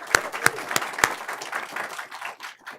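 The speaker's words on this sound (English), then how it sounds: "how about a round of applause for them?" An audience at a school board meeting claps for award winners. A few sharp, loud claps ring out at the start, then give way to a thinner, scattered patter that fades toward the end.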